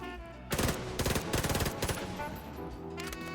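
Gunfire from a weapon in The Division 2 comes in quick bursts of rapid shots, loud and close, over a steady background of game music and ambience.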